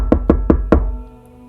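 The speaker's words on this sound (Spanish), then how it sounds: "De un momento a otro la puerta empezó a golpear, duro, como si la estuvieran forzando" Four hard, booming knocks pound on a door in a steady rhythm, close and loud, then fade into silence.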